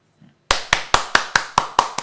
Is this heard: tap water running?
no